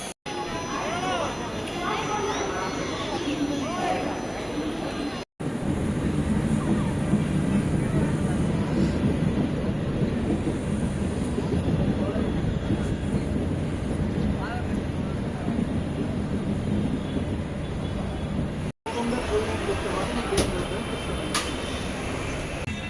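The upgraded LHB Sapthagiri Express passenger train rumbles along from Tirupati with a steady rolling clatter and hum from inside a carriage, with faint chatter and occasional brief cuts.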